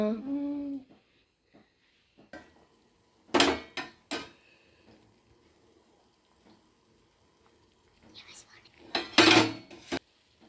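Pappu charu being mixed in a pot: two separate bursts of a metal spoon scraping and clanking against the pot, close and fairly loud, with quiet gaps between and a brief voice at the start.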